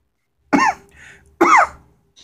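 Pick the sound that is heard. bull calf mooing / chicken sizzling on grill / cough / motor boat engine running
cough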